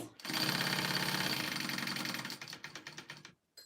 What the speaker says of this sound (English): I'm just gonna sew these together just so they don't slip